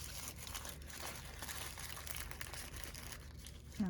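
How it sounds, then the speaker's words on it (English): Close, continuous crinkling and crumpling of thin tissue paper, soft rustles running steadily for a few seconds with no talking. "So I'm gonna give this a little bit of a crumple."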